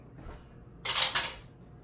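A lid pressed onto a milk container in a home kitchen while making biscuits, giving a short bright plasticky snap and rustle, close and fairly loud, after a quiet lead-in.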